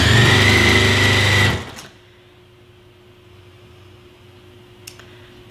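Sewing machine stitching a table runner, a loud close steady mechanical whir running for about a second and a half before stopping abruptly, followed by quiet room hum.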